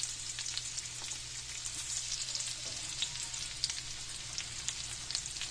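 Garlic sautéing in a pan alongside fried tofu for an adobong kangkong vegetable dish, a soft, continuous sizzle with scattered small crackles and pops, fairly quiet and without speech.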